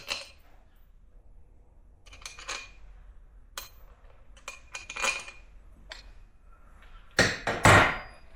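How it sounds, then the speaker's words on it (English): Metal bolts being pulled from a Yamaha YZ85 motocross engine case and set down during a rebuild, giving scattered sharp metallic clinks and taps with quiet gaps, ending in a louder cluster of rattling clanks. "We're going to go ahead and yank our bolts back off, put them back in the spot where we got them"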